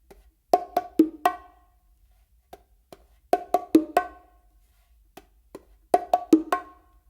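Bongos play the Brazilia pattern, with groups of four sharp, ringing open tones separated by soft ghost-note taps, repeated three times in a steady, clear rhythm with no talking.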